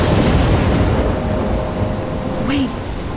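Thunderstorm in the Life is Strange video game, with steady heavy rain and low rolling thunder filling the scene loudly throughout, a brief rising tone near the end.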